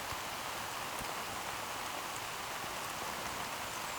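Steady rain pours down at a lakeside walleye fishing camp, a constant dense hiss of drops pattering on surfaces, close and even throughout with no voices.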